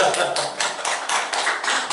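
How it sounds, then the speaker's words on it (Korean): A church congregation claps together in a steady burst of hand claps, rhythmic and moderately close, with voices mixed in underneath. "박수."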